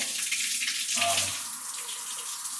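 Water runs steadily from an 8-inch rain shower head on a newly installed faucet, a broad hiss with a brief splash near the middle.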